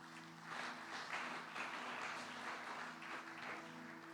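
A church congregation claps and cheers in praise at a worship service, a dense sustained wave of applause with a steady background hum underneath.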